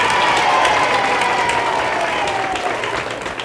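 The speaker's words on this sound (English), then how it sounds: "Give yourselves a round of applause there." A studio audience at a Baton Rouge disc jockey show bursts into loud, full applause with a hint of cheering, holding steady before tapering slightly near the end.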